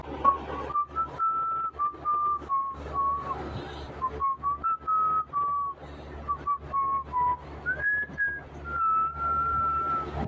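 A man whistles a wandering tune in short phrases with brief pauses while heating water at a riverside campsite, close and clear over faint background noise.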